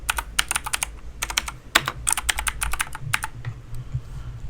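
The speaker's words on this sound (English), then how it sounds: "I put my microphone directly up to my keyboard" Computer keyboard keys clacking with the microphone held right against them, a loud, close burst of rapid irregular taps in clusters with short pauses, no voices.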